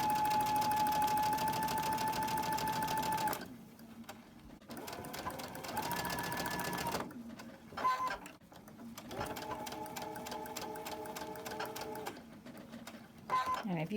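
Sewing machine stitching quilt fabric pieces for a Christmas tree quilt, running in long steady bursts of whirring stitches separated by brief pauses, close and clear.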